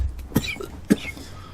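A voice imitates a hacking smoker's cough, with two rough, close coughing bursts and a breathy rasp between them.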